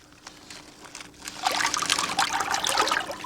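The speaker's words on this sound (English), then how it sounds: "Water for the ceremony will come from this natural spring" Water trickling and splashing from a natural spring, faint at first and then a steady, louder bubbling flow in the second half, with no voices.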